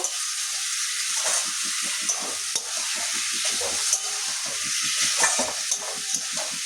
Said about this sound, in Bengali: এবারে ভালো করে সর্ষের সঙ্গে কষিয়ে নেব।